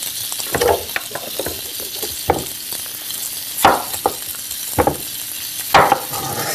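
Wheat gluten browning in a frying pan, a close sizzle broken by several sharp scraping and clacking stirs at irregular intervals, with no talking.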